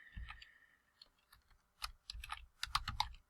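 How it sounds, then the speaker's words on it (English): Typing on a computer keyboard while entering a web address in a browser, irregular bursts of quick key clicks with short pauses between, close and fairly soft. "I'll actually type that in so people can see how I went there."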